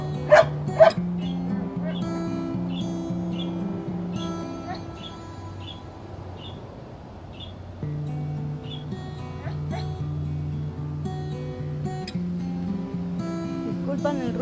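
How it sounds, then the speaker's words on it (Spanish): A dog tied up outdoors barks repeatedly, mixing sharp yips, bow-wows and whimpering whines in irregular bursts at moderate distance, with a voice heard faintly at times. "tengo el perro amarrado afuera y un ruidazo que hace"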